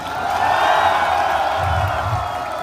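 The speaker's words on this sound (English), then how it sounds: "A big round of applause for the Green Party and Ricardo." A rally crowd at an immigration march in Auckland keeps up sustained applause and cheering, loud and close, with a dense wash of clapping and voices running through the whole moment.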